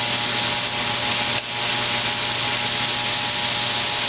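A cold steak sears in a hot pan, giving a loud, continuous sizzle with a brief dip partway through. Nobody speaks over it.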